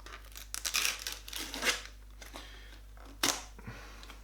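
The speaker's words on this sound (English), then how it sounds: "This is the gloss side of the cardboard. See if we can peel it." Cardboard stuck together with hot glue is pulled apart, the glossy side tearing away: close, papery ripping and crackling in a few bursts, with a sharp tear near the end and a low steady hum beneath.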